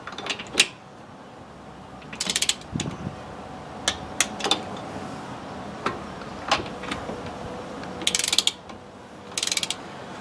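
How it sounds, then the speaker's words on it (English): A torque wrench ratchets in short clicking bursts while car bolts are tightened on a Triumph 2500 MK I. The bursts come at uneven intervals, close and fairly sharp, over a quiet workshop background. "Torque wrench is hard pressed going down that far."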